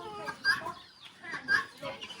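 Chickens cluck in short repeated bursts close by at a farm, their calls rising and falling in a loose rhythm with brief quiet gaps between them.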